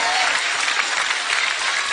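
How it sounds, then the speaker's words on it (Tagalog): Audience applause and cheering in a packed hall: a dense, loud, continuous wash of clapping with crowd voices mixed in, holding steady throughout. "Alam mo ba yung palakpak at sigaw ng mga tao yun?"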